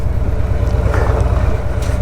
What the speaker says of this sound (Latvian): Tā, nu mēģināšu apgriezties ar šo smago motociklu.